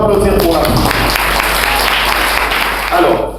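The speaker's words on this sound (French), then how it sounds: "Est-ce qu'on peut applaudir pour la fin?" Audience applause at the close of a church service, loud and dense. Voices and music run under the clapping throughout.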